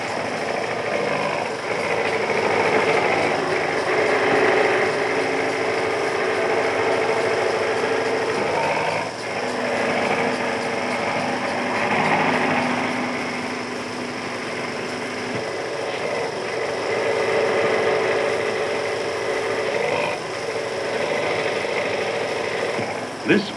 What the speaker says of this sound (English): This ray shovel gives a great degree of control, as the jib and shovel are hydraulically operated.